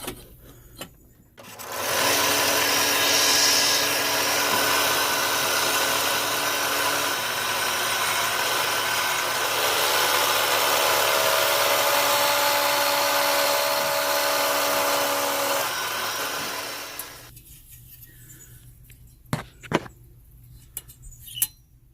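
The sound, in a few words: power drill drilling metal frame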